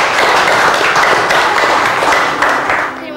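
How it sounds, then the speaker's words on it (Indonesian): A room of people claps for Cindy after she is named the winner, a loud, close burst of dense hand-clapping that holds steady for a few seconds before tapering off. "Tepuk tangan dong untuk Cindy."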